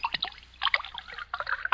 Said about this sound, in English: pour me another glass of wine